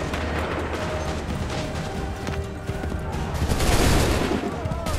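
A loud, crackling musket volley in the video game Assassin's Creed 3 rolls across the battlefield, with scattered shots and clatter that swell toward the end over a busy background din.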